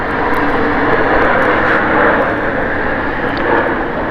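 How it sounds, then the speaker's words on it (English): A landing airplane at Palm Springs Airport gives a loud, steady roar of engine and rushing air that holds at a constant level for the whole stretch, with no talk. "Another plane landing here at the Palm Springs Airport."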